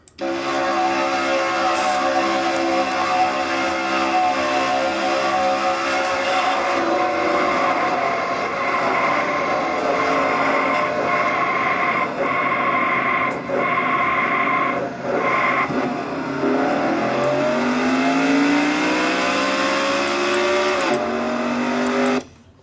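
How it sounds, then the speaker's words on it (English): Onboard a stock race car sliding at high speed, a loud sustained engine roar drones with shifting pitch, dropping and rising near the end before cutting off abruptly. "You ever wonder what a big slide feels like? Let's ride with Keith Batson."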